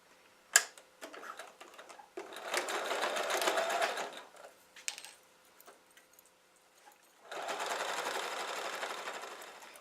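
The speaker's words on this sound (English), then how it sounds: "Now I'm going to sew down to there, stopping a 1/4 inch before I hit the corner." Sewing machine stitching down quilt binding toward a corner in two steady whirring runs of a couple of seconds each, close and moderately loud, separated by quieter clicks and handling noises.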